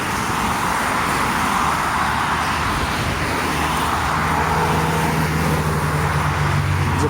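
Constant heavy road traffic rolls past on Station Road, a dense unbroken roar of cars and larger vehicles close by, with a deeper engine drone joining partway through.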